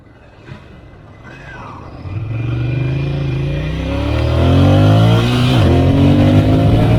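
Ducati Monster 600 motorcycle engine accelerating, revving up through rising pitched sweeps and gear changes, growing louder and close, with no talk.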